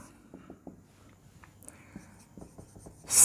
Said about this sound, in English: So write down the proof.